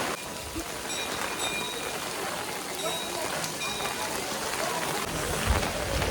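Heavy rain pours steadily in a broad, even hiss outdoors at Talacauvery in Coorg during a rainy day, with occasional low thumps and no clear voices.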